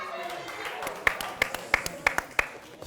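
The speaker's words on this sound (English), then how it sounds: "Please give him a round of applause." Live studio audience at a televised Christmas Day special clapping, a few sharp distinct claps standing out over softer scattered clapping, with speech running underneath.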